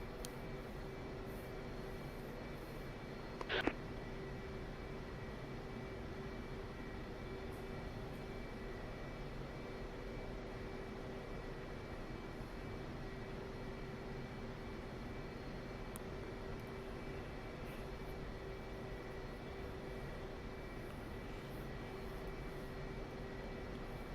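A jet aircraft in DCS World taxiing on a long ground run, a steady even engine hum holding throughout with no voices, broken only by one short sharp blip early on.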